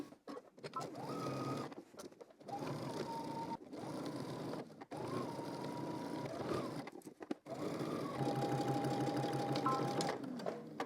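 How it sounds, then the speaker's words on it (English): Sewing machine edge stitching the lining edge of a top, running in steady mechanical bursts of a few seconds each with brief pauses between runs, close and clear with no talking. "we're going to edge stitch"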